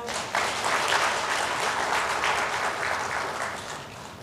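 Steady applause fills a Korean Sunday worship service, many hands clapping at once in a close, even wash that fades slightly toward the end.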